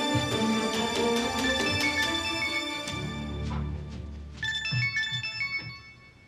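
A melodic phone ringtone plays loudly and continuously for an incoming call, a repeating electronic tune set against a faint low drone, in a Turkish television drama dubbed into Tagalog.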